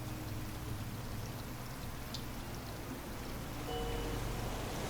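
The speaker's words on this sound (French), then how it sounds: "Les vagues qu'il y a." Steady wash of ocean waves and water in the survival game Raft, a constant faint rushing and splashing with no voices.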